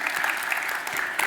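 Brief burst of audience applause at a talk, a dense even wash of many hands clapping together throughout, fairly loud and continuous.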